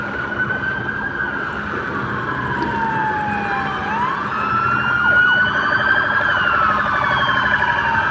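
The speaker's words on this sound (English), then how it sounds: "A lot of police cars." Several police sirens wail and sweep in pitch at once, loud and overlapping, with traffic noise underneath, on a Los Angeles street during a night of protests.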